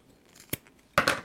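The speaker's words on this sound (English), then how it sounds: "Grab your zipper tab, fold it in half, and then cut it in half." Scissors snip through a folded fabric zipper tab during bag sewing: a short soft cut, then a louder, longer crisp snip, both close up in a quiet room.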